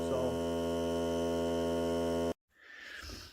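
A Hart cordless air compressor runs with a steady motor drone and strong electrical hum for a couple of seconds, then cuts off abruptly, leaving quieter background noise.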